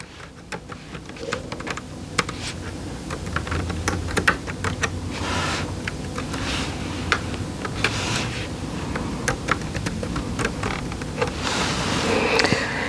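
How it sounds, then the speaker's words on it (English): Fingers type an email address on a computer keyboard, a steady close run of quick plastic key clicks with short pauses, alone and without speech. "type in your email address again"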